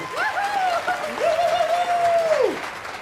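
An audience applauds a singer at a country Christmas homecoming event. Light clapping is heard under a single long, sliding whistle that rises and falls before dropping away, all within about three seconds.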